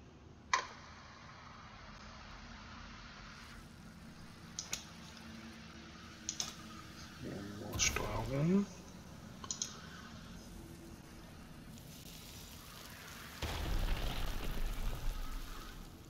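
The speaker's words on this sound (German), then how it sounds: "Also irgendwie reagiert die Tastatur gar nicht." Keyboard keys are tapped sporadically while playing World of Warcraft: Dragonflight, isolated soft clicks scattered over a quiet background, with a short cluster of rattling presses midway and a denser burst near the end.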